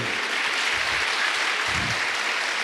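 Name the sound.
congregation applauding in church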